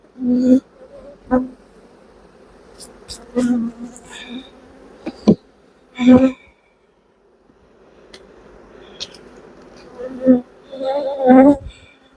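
Honeybees humming around the edges of an open nucleus hive, a faint continuous buzz beneath someone talking in short bursts close by.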